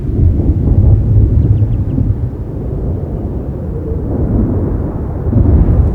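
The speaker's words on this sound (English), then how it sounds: "the sound of the approaching storm is a familiar one" Deep, continuous rumbling fills the air like rolling thunder from an approaching storm over wet moorland, loud and low with no voices.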